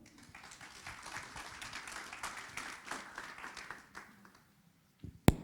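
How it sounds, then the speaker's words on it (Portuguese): Applause for a woman from a small audience, steady clapping for about four seconds before it fades out, with a short sharp knock at the end. "Salve de palmas para ela."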